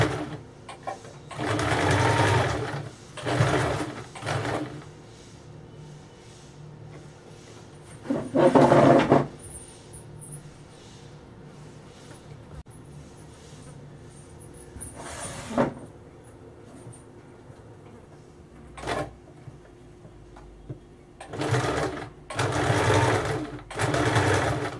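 Sewing machine stitching a blouse in short, loud whirring bursts separated by long quieter gaps, with a few brief isolated runs and faint handling noises in between.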